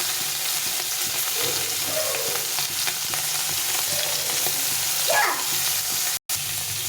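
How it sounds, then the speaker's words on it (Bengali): Pieces of fish fry in oil in a pan with a loud, constant sizzle close by, broken by occasional stirring and spatter sounds and one brief dropout near the end. "মাছগুলো ভাজা হচ্ছে"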